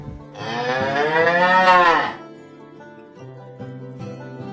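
A cow lets out one long, loud moo, close by, followed by a quieter tonal background.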